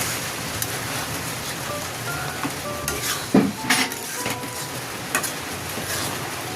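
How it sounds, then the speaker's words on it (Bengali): Spice mix being stirred into raw mango pickle in a pan, a steady soft sizzle under intermittent scraping and a few sharper utensil knocks near the middle. "মশলাটা খুব ভালো করে নেড়ে চেড়ে মিশিয়ে নিচ্ছি"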